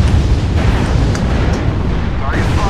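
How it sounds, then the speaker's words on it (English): Artillery strike explosions in MechWarrior Online, a deep rumbling blast that rolls on continuously with brief sharper cracks, heard under voices talking over it. "Artillery strike."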